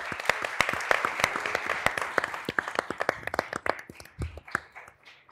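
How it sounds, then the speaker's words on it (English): Audience applause at a Latinx health policy summit panel, sparse, separate claps from a modest crowd at moderate volume that gradually thin out and fade toward the end. "Give them a round of applause, please."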